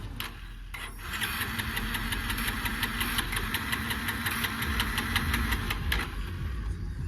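Tractor engine at an agricultural site running steadily with a knocking, rattling idle while a gear is shifted and the clutch released, close and continuous with a brief clunk near the start.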